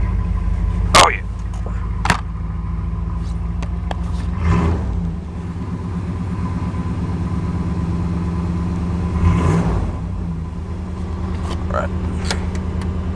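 A 1992 Chevrolet Caprice wagon engine runs steadily after a cold start, a loud continuous low rumble with a couple of brief blips in revs, while a voice speaks briefly over it.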